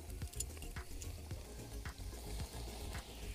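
Pork sizzles and fries while being cooked at a backyard barbecue, a faint crackle with occasional stirring or scraping taps.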